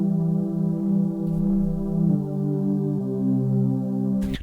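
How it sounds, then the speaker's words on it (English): Sustained synth pad built in Serum for a sad pop track, holding warm full chords that shift a few times and swell gently, loud and alone before a brief percussive hit at the end. "a secondary pad that I used Serum for"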